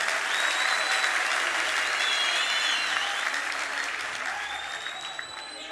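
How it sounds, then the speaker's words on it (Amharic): Sustained, vigorous applause from a large worship congregation at a youth conference fills the room, loud at first and easing slightly toward the end, with faint whistles and cheers mixed in. "ካጨበጨባችሁ ለጌታ በደንብ አጨብጭቡ።"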